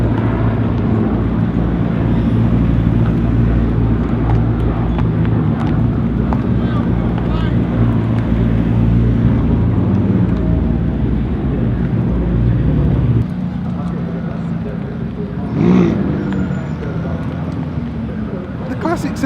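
Engines of classic McLaren racing cars heading out onto the track at the Silverstone Classic, a steady loud rumble that drops off partway through, then a brief passing swell, heavily buffeted by wind noise on the microphone.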